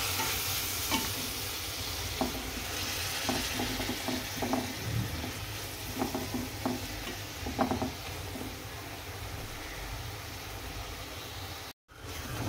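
Masala is stirred and sautéed in a pan, a soft continuous sizzle broken by repeated scraping clicks of a spoon against the pan, quiet and close, with a brief dropout near the end.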